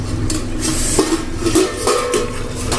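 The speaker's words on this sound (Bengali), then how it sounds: "এখন আমি ঢাকনাটা তুলে দেখবো কি অবস্থা হয়েছে।" A pot lid lifted off a simmering Bengali fish masala curry of raw katla fish with potatoes, a few metallic clinks and scrapes close by over a steady cooking hiss.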